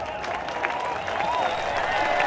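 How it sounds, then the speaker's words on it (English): A reparations rally crowd applauds and claps in a steady, dense wash that builds slightly toward the end, with voices over it. "Clap it up for your black selves."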